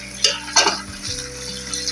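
Onions dropped into hot ghee left from frying mutton for bhindi gosht, giving a steady close sizzle with a couple of sharp bursts and light stirring scrapes, no voices.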